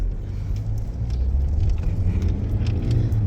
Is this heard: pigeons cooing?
no